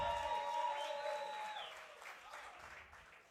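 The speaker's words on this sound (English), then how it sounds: "Give them a round of applause." An audience at a poetry slam final applauds, with clapping loudest at first and slowly thinning out, while a sustained musical tone fades in the background.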